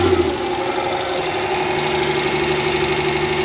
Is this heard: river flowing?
no